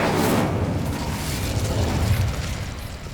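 A fire spell cast in the Hogwarts Legacy video game gives a loud, sustained roaring whoosh of flame that runs the whole moment, with a deep rumbling body that slowly eases toward the end.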